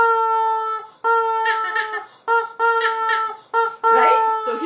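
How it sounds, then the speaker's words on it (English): A large squeezable rubber chicken toy with a little whistle in its neck honks out five tonal, squawking squeals in a row, each a loud near blast separated by short gaps. "I squeeze, the air goes through his neck through a little whistle,"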